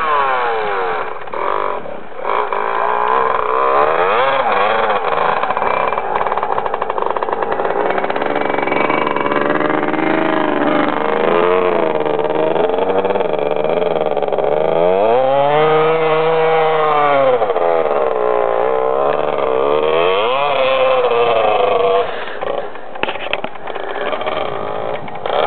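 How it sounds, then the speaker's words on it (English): A loud motorbike engine running in snow, revving up and down in repeated swells with a pronounced dip and rise midway, continuous and close throughout. "Who's that noisy bike?"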